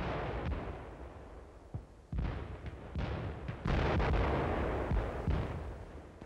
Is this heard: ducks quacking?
no